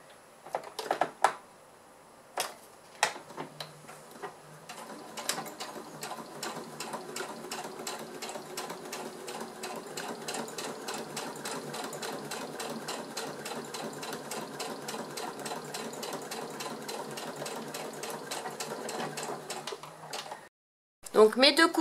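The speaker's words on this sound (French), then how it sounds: "Et maintenant, je fais la seconde couture sur le bas." A sewing machine runs the bottom seam of a transparent crossbody phone pouch. A few stop-start bursts lead into a long, steady, rapid stitching run that stops abruptly, with possible brief speech near the start.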